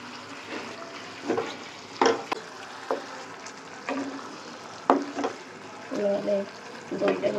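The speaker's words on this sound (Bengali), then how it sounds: "এটা দিয়ে নাড়তে হবে সমানে, না হলে আবার হয়ে যাবে, দইটা কেটে যাবে" A spoon stirs a yogurt-based dish in a pan, giving soft intermittent scrapes and clinks over a faint sizzle, fairly quiet and close.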